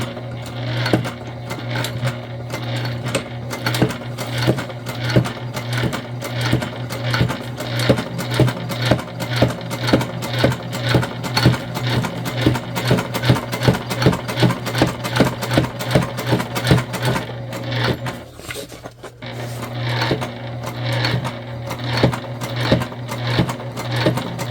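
A sewing machine stitches the base panel of a fabric tote bag, running steadily and close for the whole stretch with a fast rhythmic needle clatter and motor hum, briefly slowing near the end before picking back up.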